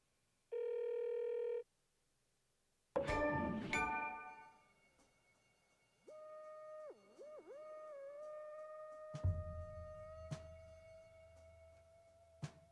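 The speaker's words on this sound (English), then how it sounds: "Please pick up the phone, girl." A telephone in Alan Wake 2 rings once with a short, steady electronic tone, then a sharp clash and a sustained, wavering hum follow.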